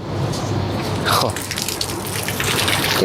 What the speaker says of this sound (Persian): 2 تا پمپ از هر ورم داره آب میریزه